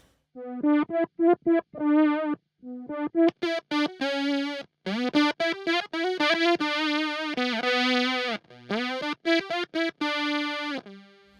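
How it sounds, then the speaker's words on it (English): Electric guitar played through a Meris Enzo synth pedal set to a ladder low-pass filter, heard as short, clipped synth notes in a choppy melodic phrase, then longer sustained tones, loud and alone without talk. "that's a ladder low pass filter."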